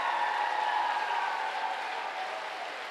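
Graduation audience in a high school ceremony applauding the grad class, a steady wash of distant crowd clapping that holds evenly throughout.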